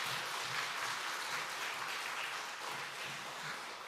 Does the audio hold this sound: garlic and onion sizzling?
no